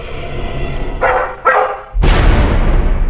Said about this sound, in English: The dog is barking at something that we can't see.